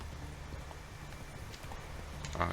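Hoofbeats of Geralt's horse Roach in The Witcher 3, a soft steady clip-clop at a fast pace, moderately close beneath faint ambient background.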